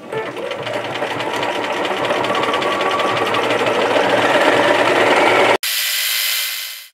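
Bernina 1080 sewing machine stitching, a steady fast mechanical whir running continuously for several seconds, then a brief stop and a short higher-pitched run before winding down.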